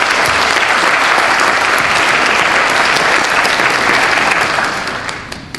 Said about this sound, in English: I appreciate if you give him a round of applause.